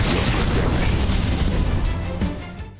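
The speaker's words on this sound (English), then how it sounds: "Fireball. My wrath." A fireball spell in the video game Octopath Traveler II bursts with a loud, deep, rumbling boom that roars for nearly three seconds and slowly fades.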